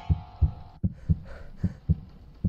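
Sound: fast heartbeat effect in horror video game A Devilish Nightmare

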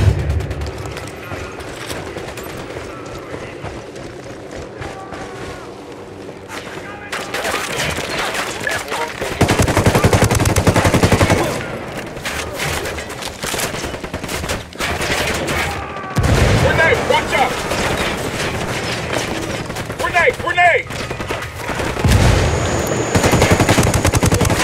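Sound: gunfire in the video game Ghost Recon Wildlands

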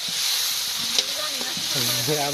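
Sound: fish and onion fritters frying in oil

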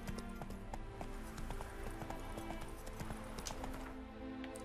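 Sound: horse galloping and whinnying in video game The Witcher 3

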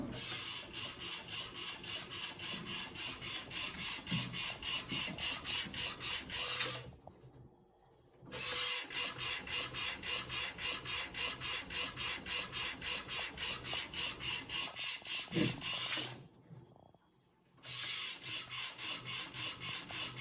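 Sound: textile printer printing

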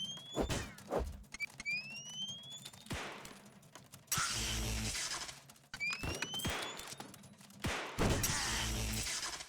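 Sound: gun firing in a video game

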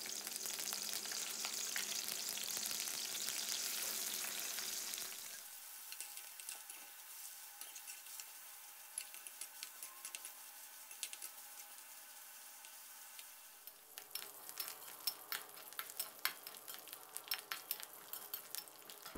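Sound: pork belly stir-frying in oil

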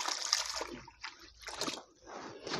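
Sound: water poured into a planting hole for tomato seedlings

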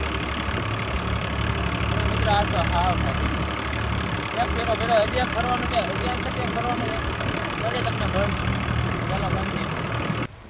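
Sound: tractor engine running

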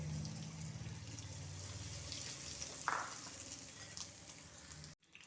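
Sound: batter frying in hot oil

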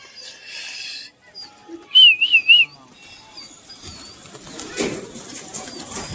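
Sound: whistling to call pigeons

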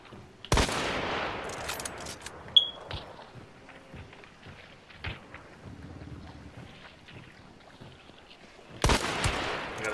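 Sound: gunshots in the video game Hunt: Showdown

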